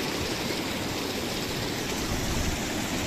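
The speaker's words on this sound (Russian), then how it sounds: "Вот здесь очень приятные пузырики, они как массажные считаются." Water bubbles and churns without a break in an outdoor spa pool, a dense, close hiss and gurgle of massage jets at an even level, with no voices.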